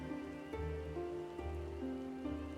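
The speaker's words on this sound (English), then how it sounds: "It's raining down here." Steady rain patters in a Final Fantasy 14 Dawntrail game scene, a soft continuous hiss beneath sustained musical tones, with no talking.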